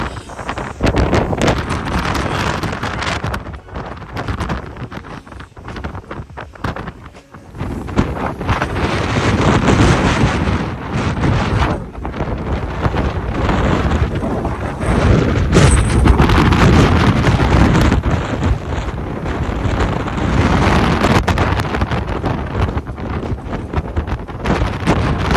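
Strong wind buffets the microphone outdoors on Oahu, Hawaii, a loud, steady roaring rumble that swells and dips for the whole stretch with no speech.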